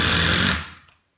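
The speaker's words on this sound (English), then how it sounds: "notice how the Surge, you know, it's right in there with the power on these fasteners." A Milwaukee M18 Fuel Surge hydraulic impact driver runs fasteners in with a dense, rapid hammering rattle, loud and close, for about half a second before winding down to silence.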